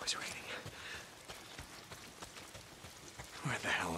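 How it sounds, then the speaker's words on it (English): Steady rain falls in the Days Gone video game, a soft, even hiss of drops spattering on surfaces, moderately quiet and continuous throughout with faint footfall-like taps mixed in. "It's not the freaks, it's the goddamn rain."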